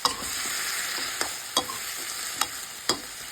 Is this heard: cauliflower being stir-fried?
yes